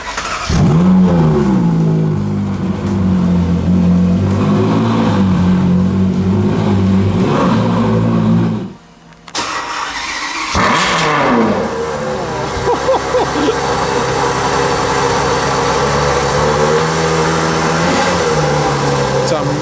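A Lamborghini Aventador SV V12 engine revs loudly and holds a high, rising howl, drops briefly to near silence, then roars back up again.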